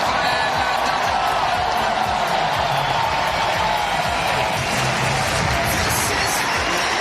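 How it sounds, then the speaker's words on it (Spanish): A large crowd roars in ovation for an Olympic tennis match on clay, a dense, continuous wall of applause and cheering that stays loud and unbroken throughout. "bajo la ovación del público que tenía muchísimas ganas de ver a ambos tenistas sobre la arcilla"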